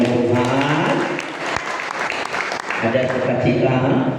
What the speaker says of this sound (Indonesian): Masih tepuk tangan bagi kemuliaan Tuhan.